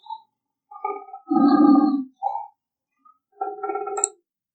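A cat meows several times in short, separate cries, close and clear, with quiet pauses between them.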